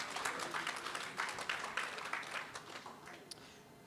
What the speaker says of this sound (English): a round of applause to the doctors here and the health workers